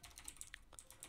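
Quiet, rapid keystrokes on a computer keyboard while someone writes a script in Roblox Studio, a quick irregular run of light clicks spread across about a second.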